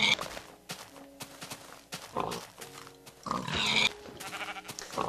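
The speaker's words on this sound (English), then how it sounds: "I see a pig. So I'm going to go kill the pigs." Minecraft pig grunts and oinks in short bursts over game footsteps and background music, moderately loud with repeated animal calls; no talking.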